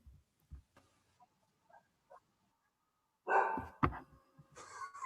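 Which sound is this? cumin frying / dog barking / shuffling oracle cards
dog barking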